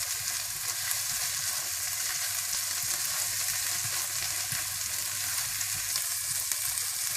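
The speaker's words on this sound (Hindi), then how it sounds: "अच्छी तरह से थोड़ी देर के लिए 2 या 3 मिनट के लिए आप भून लें" Dal masala with turmeric, red chili and garam masala frying in a pan, giving a steady, close sizzle with occasional stirring scrapes throughout, no voices.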